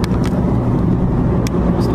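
A car on the road in Puri, Odisha, with a loud, steady engine rumble and road noise close by, plus a few faint clicks and ticks.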